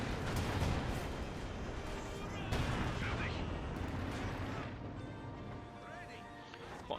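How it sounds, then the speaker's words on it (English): Field gun in Company of Heroes 2 fires on a Panther tank amid dense, continuous battle noise, with sharp reports near 2.5 and 3.5 seconds over a loud rumbling mix of gunfire, and voices talking throughout. "Field gun there opens up, gets a penetrating hit on the Panther."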